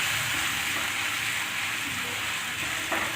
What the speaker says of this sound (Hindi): अब हम तेल गरम हो गया है, जीरे को डाल देते हैं। इसके बाद हम प्याज डाल देंगे।